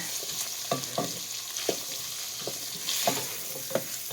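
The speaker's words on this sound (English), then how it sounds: "So I'm just going to get these cooking in here with the hamburger. And let that all cook up." Hamburger and onions frying together in a pot for homemade chili: a steady sizzle under repeated scraping stirs of a utensil, each stroke sounding close and distinct.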